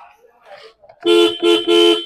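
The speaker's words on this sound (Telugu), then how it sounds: "హారన్ మస్తు బాగా వస్తుంది." A 2015 Ford EcoSport Titanium car horn honks three times in quick succession, loud and close, after a moment of quiet speech.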